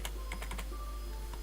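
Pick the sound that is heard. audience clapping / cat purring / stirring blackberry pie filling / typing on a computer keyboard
typing on a computer keyboard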